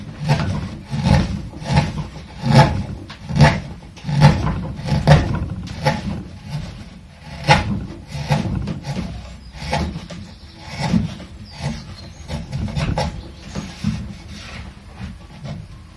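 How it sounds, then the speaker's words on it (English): A chisel carves soft ash wood on a guitar body in a workshop, giving repeated rasping scrapes in an irregular rhythm, close and fairly loud, with brief pauses between strokes and no talking. "So I don't need to get it absolutely perfect in this with the chisel."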